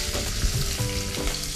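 Chopped onion hits hot oil with cumin seeds, giving a loud, dense, continuous sizzle and crackle close by, with faint stirring under it and no voices.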